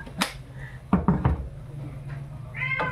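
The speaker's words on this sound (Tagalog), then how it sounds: "Pasensya na, maingay si ano namin, si Meow Meow." A cat meows a few short times, close by, over a low steady hum of household background noise.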